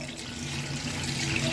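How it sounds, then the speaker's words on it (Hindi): Water pours steadily from a jug into a pot of pulao, a continuous close splashing stream with no talking. "तो अब हम पानी इसमें ऐड करते हैं।"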